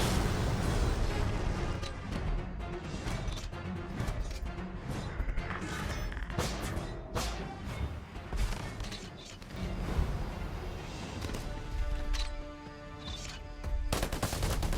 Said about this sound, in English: Next up we have the signature shoulder mounted plasma cannon.